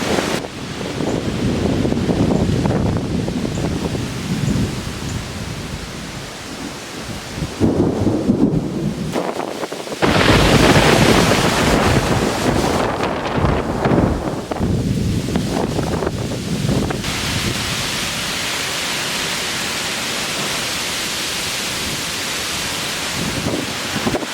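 Strong wind roars and buffets the microphone amid rain and rumbling thunder outside a house, a steady stormy wash with gusts surging louder midway.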